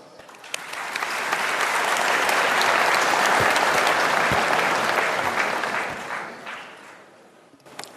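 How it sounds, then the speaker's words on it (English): A seminar audience on vegan organic farming and climate change gives a warm round of applause to welcome a speaker. Dense clapping swells, holds strongly for several seconds, then fades away over about eight seconds. "Let's welcome distinguished Madam Sri Hudiastuti with a warm round of applause"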